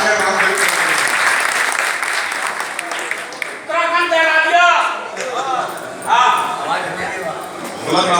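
Loud applause from the audience at a village event honouring students who made the board exam merit list, dense clapping for several seconds, then fading under a voice speaking on the stage microphone.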